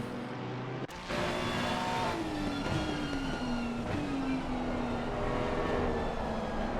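Ferrari race car in a racing video game charging through the Druids hairpin at Brands Hatch, engine note loud and sustained with gear changes and falling then rising pitch, a second car close behind.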